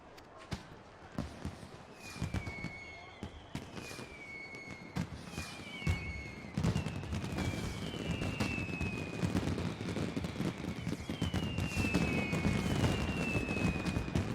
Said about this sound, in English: Man, them some good fireworks, not gonna lie.